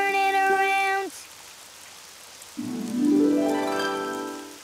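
In the Daniel Tiger video game, a light, steady rain patter sits under chiming game music: one held tone ends abruptly, and after a short lull a sliding, upward-sweeping melody enters.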